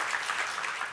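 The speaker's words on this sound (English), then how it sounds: "So round of applause for Thank Eman." Audience applause at a live podcast recording, a dense, steady wash of many hands clapping together without break, fairly loud and close.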